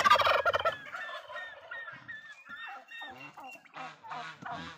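Turkeys, some of them sick with fowl pox, gobble in a loud rattling burst close by, followed by quieter warbling calls and clucks from the flock.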